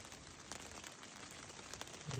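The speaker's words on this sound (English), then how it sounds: "You hear that? It's raining." Light rain pattering on a tent in a forest at night, faint scattered drops and soft taps over a quiet hiss.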